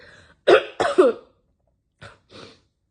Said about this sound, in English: Sorry, that was a bad time to cough.